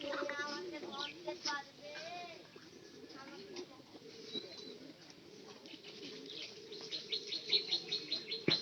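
Pigeons kept in a loft coo in soft, repeated rolling calls, some close and some farther back, with chirps from other birds and someone talking over them.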